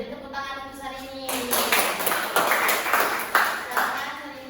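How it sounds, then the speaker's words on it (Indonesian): Classroom applause for a student named Sarini during a microteaching lesson, a burst of scattered clapping rising after a teacher's voice and continuing for a few seconds. "beri tepuk tangan untuk Sarini"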